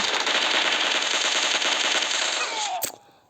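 Sustained automatic gunfire in PUBG Mobile, a loud continuous burst lasting about three seconds before cutting off with a sharp final crack and a fading tail.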